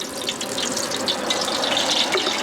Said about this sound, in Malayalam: മുന്നൂറ് ഗ്രാം സൺഫ്ലവർ ഓയിൽ ഒഴിക്കാം